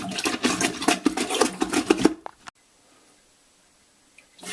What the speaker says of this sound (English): I then flush the toilet